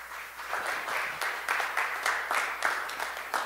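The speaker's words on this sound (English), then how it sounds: "I thought you were clapping some more for Jesus" A church congregation applauds at the close of an evening Bible study and communion service, a steady crowd clapping with rhythmic swells throughout, no speech over it.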